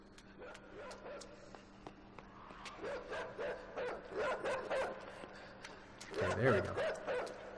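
Dog barking in the side-scrolling game INSIDE, several sharp yips and barks scattered through the clip at moderate distance, overlapping someone talking over the gameplay.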